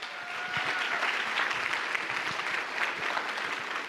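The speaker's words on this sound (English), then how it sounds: "One more round of applause for our fabulous panelists" Sustained applause from an audience for a panel of speakers at an academic Q&A event, a dense steady wash of many hands clapping together, fairly loud and continuous throughout.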